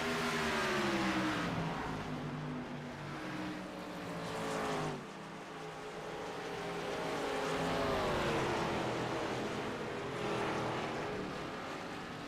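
Race car engines roaring on an oval track at Legacy Phoenix in a racing game, a steady loud drone with rising and falling pitch as cars pass close by.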